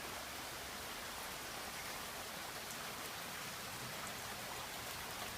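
Steady rain falls in a Florida yard while the sun is out, an even, close hiss of drops pattering on surfaces, continuous and unbroken, with no voices.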